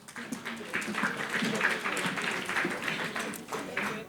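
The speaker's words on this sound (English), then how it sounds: "Let's give them a round of applause." A fairly faint, steady round of applause from an audience at a tourism leadership panel, scattered claps blending into a continuous patter that stays level throughout.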